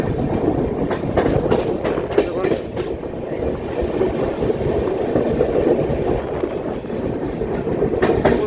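The Saraighat Express rolls along the rails on a curve near Guwahati with a steady rumble and repeated clickety-clack of the wheels over rail joints. The sound is continuous and close, with faint voices underneath.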